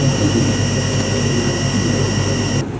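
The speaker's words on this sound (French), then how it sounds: "Le moteur tourne à 3000 tours." A washing machine motor spinning at 3000 rpm gives a loud, steady whirring whine with high sustained tones, cutting off abruptly near the end.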